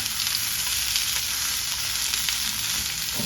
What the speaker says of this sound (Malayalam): ഇനി എണ്ണ ചൂടായിട്ട് അതിലേക്ക് ഈ കോളിഫ്ലവർ ഇട്ടിട്ട് ഒന്ന് ഫ്രൈ ചെയ്തെടുക്കാം